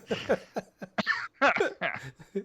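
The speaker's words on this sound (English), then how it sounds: "you got a little cold cough there" A short run of several coughs, close and fairly loud, with brief pauses between the bursts.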